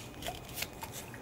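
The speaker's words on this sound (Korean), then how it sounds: "두 장의 추가 카드를 더 뽑아보겠습니다" Tarot cards are drawn from a deck, a brief soft rustle of sliding and flicking card stock, close and quiet, with no talk.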